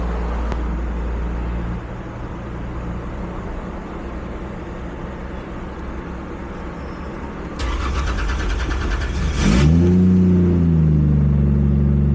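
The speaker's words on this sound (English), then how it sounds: "it definitely runs on the Supra with no problem" A Toyota Supra engine at first runs steadily, then a starter cranks with a rapid rattle and the engine catches and revs up, settling into a loud, close idle.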